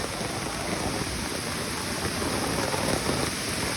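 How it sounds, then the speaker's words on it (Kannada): Heavy rain on a mountain trek at Kudremukh in Karnataka, a loud, continuous hiss of downpour that stays steady throughout with no speech. "ಮಳೆ ಜೋರಂದರೆ ಜೋರಾಗೋಯ್ತು."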